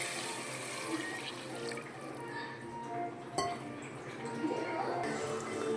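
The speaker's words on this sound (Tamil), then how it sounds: "இப்போ தேவையான தண்ணி ஊற்றிக்கலாம்." Water splashes and runs into a metal pot, with occasional clinks of cookware against a continuous pouring sound.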